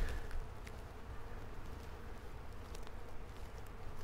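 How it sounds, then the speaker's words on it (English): Faint, continuous buzzing of honeybees drifting around apricot blossoms nearby, a soft steady hum with occasional louder passes, no voices. "there are bees everywhere right now. And judging by the look of them, they're all honeybees"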